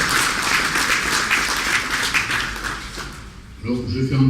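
Audience applause during a local political speech at the inauguration of a campaign office, steady broadband clapping from a crowd that fades out toward the end, then a voice comes in.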